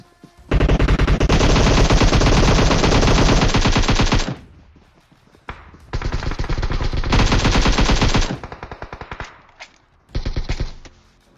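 Two AKM assault rifles fire in a battle royale video game, long loud sustained full-auto bursts broken by short pauses, then a final shorter burst, close and dominant with no talk.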